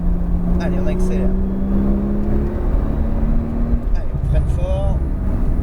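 A Porsche 911 Turbo S accelerates on the La Ferté-Gaucher race circuit, its engine drone rising in pitch under a passenger's steady French conversation.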